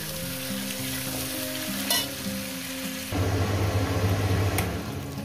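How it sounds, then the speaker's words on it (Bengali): Vegetable stems frying in oil in a pan for a coconut-milk shukto, a steady close sizzle that grows louder and denser about halfway through, with a low background hum underneath and no talking. "এর মধ্যে আমি ডাঁটাটাও দিয়ে দেবো। একদম মিনিট 4-5 ধরে ভেজে নেব।"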